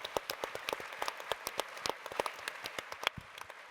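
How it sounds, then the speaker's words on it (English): A fairly quiet, sparse round of clapping from a small audience at a UN General Assembly panel on peace and security, with distinct separate claps in an uneven patter. "let's give him a round of applause"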